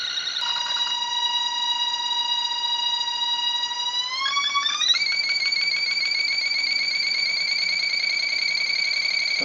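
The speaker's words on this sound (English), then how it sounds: "you will hear the buzz from the coils" Buzzing hum from the coils of a BLDC motor in a magnetic field experiment, a steady layered tonal whine that climbs to a higher pitch partway through and then holds, loud and continuous.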